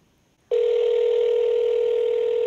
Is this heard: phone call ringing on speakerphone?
yes